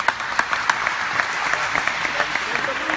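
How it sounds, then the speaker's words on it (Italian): Applause from a dance workshop group fills the room with dense, steady clapping and a few sharper individual claps standing out, close and lively throughout. "Ok, un applauso"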